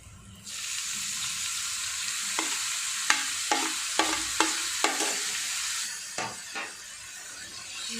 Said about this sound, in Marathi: थोडीशी मिरची परतली की त्यात आपण मुळा ॲड करूया।